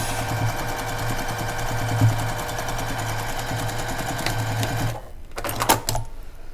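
A sewing machine stitches a quarter-inch seam on a quilt block, running steadily and close for about five seconds before stopping, followed by brief handling noises.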